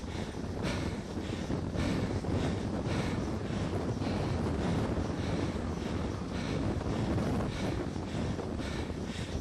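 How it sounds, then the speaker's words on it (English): Strong wind gusts roar steadily across a microphone along a coastal highway, a loud continuous buffeting rush with rhythmic surges and no voices. "Hear that wind blowing."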